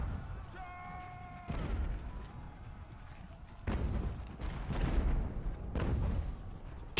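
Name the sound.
cannon artillery fire in the video game Ultimate General: American Revolution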